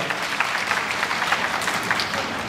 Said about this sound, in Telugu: గట్టిగా చప్పట్లు కొట్టండి అమ్మా